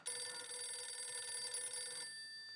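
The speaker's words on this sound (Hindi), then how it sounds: "फोन बज रहा है।" A telephone bell rings continuously in a bright, steady electronic trill for about two seconds, then cuts off, heard in a household scene from the Hindi sitcom Taarak Mehta Ka Ooltah Chashmah.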